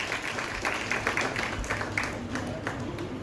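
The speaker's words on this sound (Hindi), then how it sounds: "एक बार जोरदार तालियां उनके लिए।" An audience at a Uttarakhandi ghazal program in Delhi breaks into applause, a moderate patter of clapping hands sustained throughout with a voice speaking over it.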